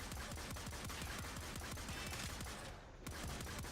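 Arca Scisco firing in the game Warframe: a rapid, steady stream of close, loud shots from the weapon, keeping a fast automatic rhythm with a brief break near the end before resuming.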